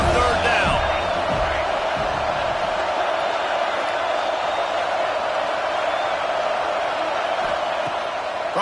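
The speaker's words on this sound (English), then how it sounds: "Decibels rising as the crowd gets behind this defense on third down." A stadium crowd at a Penn State versus USC football game roars for the Penn State defense on third down, a dense, sustained wall of cheering that stays loud and steady, with a brief burst of whoops near the start.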